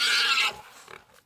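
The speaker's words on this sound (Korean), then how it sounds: "사냥개들이 200kg이 넘는 멧돼지를 공격합니다." A wild boar weighing over 200 kg squeals loudly for about half a second while hunting dogs attack it, followed by fainter grunting and scuffling.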